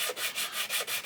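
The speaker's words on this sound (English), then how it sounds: "I'll take a sanding stick to this part" A sanding stick rubs back and forth across a flat plastic surface on a U.S.S. Reliant starship model kit, about four quick, close scratchy strokes in a steady rhythm.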